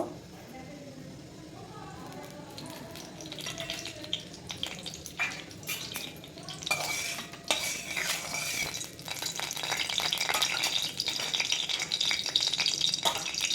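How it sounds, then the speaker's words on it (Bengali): Oil heats in a wok for chicken chow mein: a rising sizzling hiss with scraping and clinking of a utensil against the metal, louder toward the end, with a voice at moments. "তেলটা গরম হয়ে গেছে"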